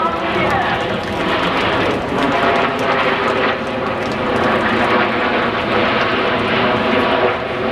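An Avro Vulcan jet bomber flying over an air show roars loudly and steadily overhead, its engine noise sustained throughout while an announcer talks over the public address.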